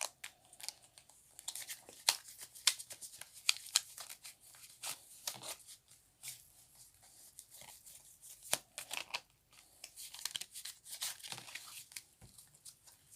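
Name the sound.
shuffling tarot cards for a card reading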